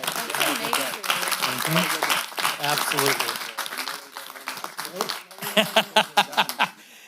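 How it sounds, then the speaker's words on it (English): City council meeting crowd applauding a fundraising team from a boot drive, clapping mixed with talk and light chuckles, ending in a few louder, distinct claps. "Let's give them a round of applause."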